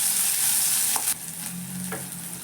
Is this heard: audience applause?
no